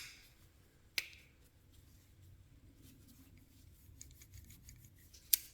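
The liner lock on a cheap $10 folding knife makes a sharp click, then a faint, gritty scraping and rubbing, and another sharp click at the end, all quiet and close.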